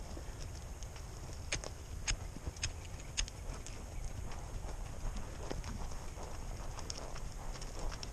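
A ridden horse walks at a steady pace during a riding session, its hooves giving a regular, moderately faint clip-clop over a constant low background rumble.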